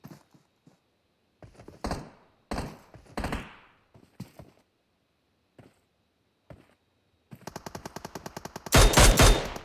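Gunfire from the mobile battle-royale game PUBG Mobile during a pro scrim: scattered single shots and short bursts, then a dense rapid automatic volley that builds to loud sustained fire at the end.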